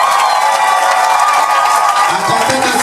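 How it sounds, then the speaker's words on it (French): Wedding guests at a civil marriage ceremony clap and cheer as one steady, loud crowd roar, with shouts and voices mixed through the dense applause. "On applaudit s'il vous plaît."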